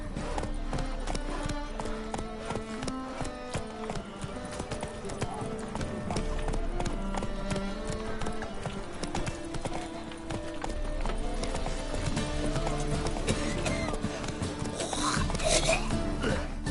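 A horse gallops in The Witcher 3: Wild Hunt, its hoofbeats pounding in a fast, continuous rhythm at close range, layered with in-game music and occasional snorts.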